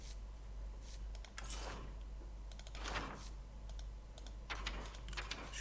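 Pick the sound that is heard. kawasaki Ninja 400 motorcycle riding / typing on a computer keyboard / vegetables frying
typing on a computer keyboard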